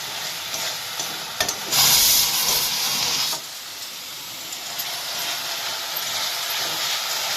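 Spices with sugar are stirred in a hot pan for a rosogolla rezala, a spatula scraping and knocking against the metal over a steady sizzle, with a louder hissing burst partway through and no voices.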